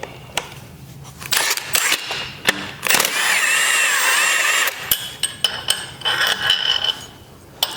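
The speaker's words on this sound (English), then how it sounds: "you have to take this bolt right here out" Bolt being removed from a Polaris 325/330 Magnum ATV engine during an engine swap: a run of close metallic clanks and taps from hand tools, with a sustained grinding, ratcheting stretch in the middle and more scattered knocks afterward.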